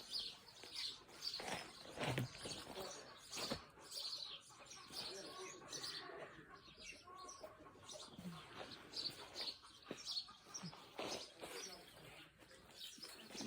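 Birds chirp and coo among the apricot orchards of Iğdır, soft and fairly distant calls over a quiet outdoor background, with no voices.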